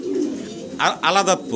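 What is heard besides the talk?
pigeons cooing at a pigeon farm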